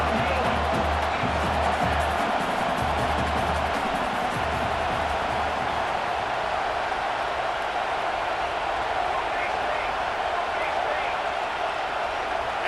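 Stadium crowd at a college football game against Colorado roars as a steady, loud wash of noise, with a low rumble near the start and no clear break throughout.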